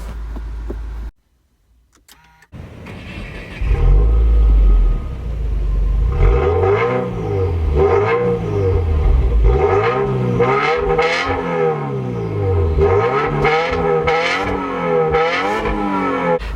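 A 2018 Subaru WRX with a 2.0-liter turbocharged four-cylinder boxer engine starts up and drives off, its engine note rising and falling through repeated gear changes as it accelerates, loud and close from inside the cabin.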